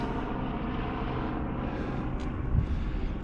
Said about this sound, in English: Flying low, I don't know if it's a rescue chopper or a news chopper.